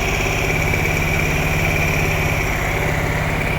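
A Mirage 250 motorcycle engine, rebuilt after three years parked, idles steadily and loudly up close with an even, continuous rumble and no voices.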